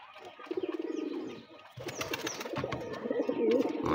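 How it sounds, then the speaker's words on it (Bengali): Cooing from white Bombay pigeons kept in a loft, with a run of soft rhythmic coos followed by busier overlapping calls and some rustling nearby. "এই যে আমার বোম্বাইয়া সাদা কবুতর"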